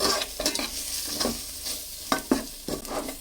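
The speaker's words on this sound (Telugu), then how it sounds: "మనమైతే నువ్వులు కొబ్బరి గసగసాలతో చేసి పెట్టుకున్న పొడి మొత్తం ఇసు కలుపుకోవాలండి" Fish curry, village style, is stirred in the pot as a powder of sesame, coconut and poppy seeds is mixed in, giving a soft continuous sizzle with quiet scraping strokes close by.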